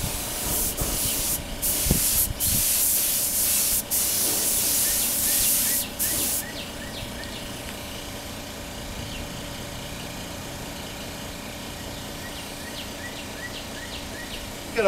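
Spray gun hissing in several bursts while motorcycle paintwork is sprayed on Kawasaki, Suzuki, Bimota and Honda NS250 parts, followed by a low steady background hum and faint ticking once the spraying stops.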